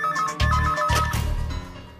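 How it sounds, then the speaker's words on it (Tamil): A phone ringtone plays as a loud, steady electronic tone with a repeating pulsing rhythm, close by and heard alone. "Phone sir. கேக்குது."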